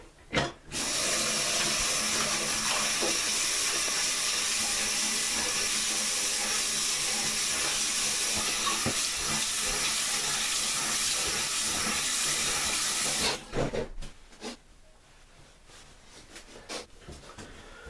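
Water from a tap runs in a loud, steady hiss for roughly thirteen seconds while someone rinses off after shaving, then cuts off abruptly, leaving faint handling noises.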